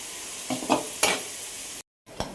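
Onions sautéing in a pan, stirred in a few short scraping, sizzling bursts close by, followed by a brief silence and one more stir.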